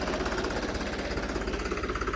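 A Arjun 555 tractor engine chugs close by with a rapid, steady knocking rhythm, loud and continuous throughout.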